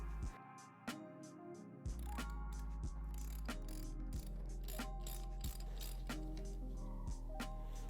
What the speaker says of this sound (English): I'm going to hold the brake and use a 19 millimeter socket to break the axle nut free